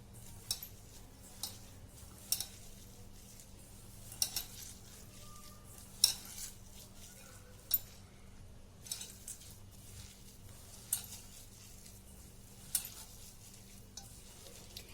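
A fenugreek (methi) mutke mixture is mixed by hand or spoon in a bowl, quiet soft stirring with a series of sharp, evenly spaced clinks against the vessel over a low background hum.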